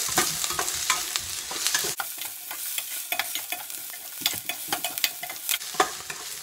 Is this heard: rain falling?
no